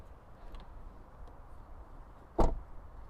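A DS7 Rivoli car door shuts once with a single solid, muffled thud near the end, standing out clearly against a quiet, steady background.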